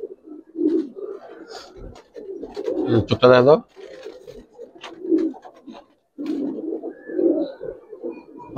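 Giribaz and coloured pigeons cooing in soft, low repeated coos close by, heard under someone talking steadily over them.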